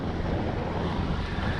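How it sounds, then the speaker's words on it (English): Steady wind buffeting a lake on an overcast, hot day of muskie fishing, a continuous broadband rush with no pauses or voices throughout. "It's overcast, hot, and windy."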